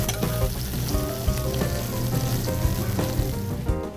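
Fish sizzles and crackles as it fries in a pan with gazpacho, a steady close frying hiss broken by sharp pops and stirring taps.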